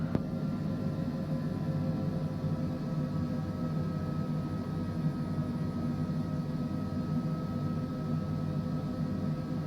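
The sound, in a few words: airliner taking off in Microsoft Flight Simulator 2024 video game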